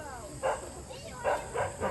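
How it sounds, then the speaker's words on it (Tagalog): A dog guarding a bridge barks in several short yips and woofs, three or four bursts at moderate distance, with people talking in the background. "may aso pala nakabantay dun sa bridge."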